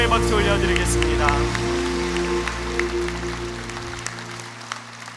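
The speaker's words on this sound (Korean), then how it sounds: "하나님께 영광의 박수 올려드리겠습니다" A church congregation applauds to give glory to God, a steady wash of clapping over sustained music that fades gradually toward the end.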